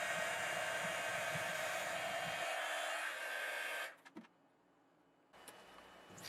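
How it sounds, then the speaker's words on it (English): A heat embossing tool blows hot air in a steady, fairly loud whoosh for about four seconds, then switches off, leaving near silence broken by faint handling noises. "again turn on the heat tool before to preheat the gun"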